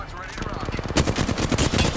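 A Spitfire light machine gun in Apex Legends fires a sustained rapid burst, loud and close, with dense rattling shots running through the whole stretch.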